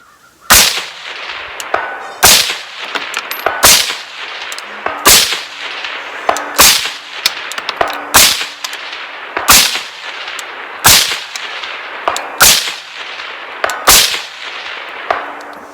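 Repeated gunshots from a rifle fitted with a Northtac Ronin M-10 red dot and MM3 magnifier, roughly a dozen sharp loud cracks spaced about a second apart, fired outdoors with no talking.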